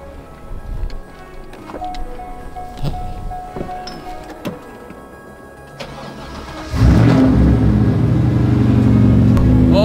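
After scattered clicks and knocks, a Corvette drift car's engine cranks and roars to life, then keeps rumbling loudly and steadily.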